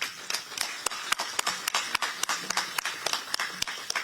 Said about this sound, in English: If I may kindly ask you to give this opportunity a round of applause.